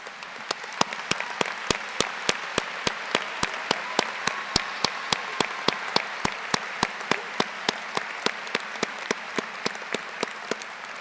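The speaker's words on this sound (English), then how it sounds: "we can give our public safety heroes a round of applause" An audience at a Manchester High School Class of 2025 graduation applauds public safety workers, a thin, even patter of claps with sharp individual hand strikes standing out at a steady pace.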